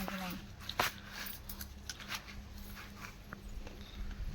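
A puppy whimpers faintly amid outdoor background noise, with a few brief yips and soft whines spread across the stretch and faint voices nearby.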